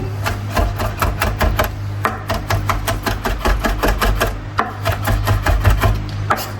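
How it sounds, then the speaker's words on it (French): A knife chops garlic finely on a board for Argentine chimichurri, giving a rapid, steady run of close, crisp taps that briefly pause before resuming, with no talking. "je vais le retailler encore, le hacher encore un peu plus avec un couteau"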